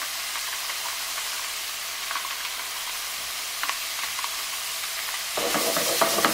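Quiche filling sizzles and fries in oil in a pan, with a steady close hiss and occasional faint stirring clinks. The sizzle grows louder and denser near the end.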